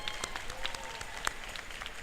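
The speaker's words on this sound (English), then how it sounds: "please join me now in acknowledging and applauding the UWG Wind Ensemble in the direction of Dr. Joshua Bird" Audience applause for a university wind ensemble at a spring commencement ceremony, a steady spread of many hands clapping at moderate distance throughout, with no talk over it.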